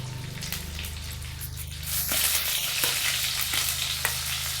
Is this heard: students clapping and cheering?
no